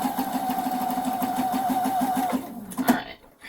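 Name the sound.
sewing machine stitching fabric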